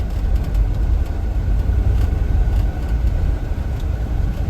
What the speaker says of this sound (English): I just gas it a little bit and it just pulls right along in this snow